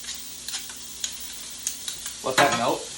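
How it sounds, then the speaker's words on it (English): Butter and garlic hit a hot steak pan, starting as a low steady hiss with a few soft clicks, then swelling into a brighter, louder crackling sizzle near the end. "And you're going to put some butter in."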